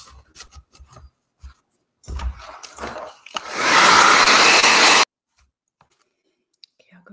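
A hair dryer blows on acrylic paint on an abstract canvas, starting with a short burst and then running loud and steady for about two seconds before cutting off, with quiet handling noises and brush sounds on either side.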